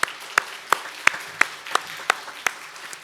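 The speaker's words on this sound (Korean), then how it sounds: "우리 하나님께 영광의 박수 함께 올려드리겠습니다." A church congregation applauds during a Sunday worship service, a sparse, spaced run of individual claps at a steady rhythm, moderately close, with no voices over it.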